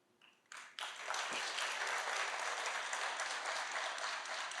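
Applause from an audience at a tribute event for professor and philosopher Olavo de Carvalho starts with a few scattered claps, then swells into full, sustained clapping that holds steady to the end.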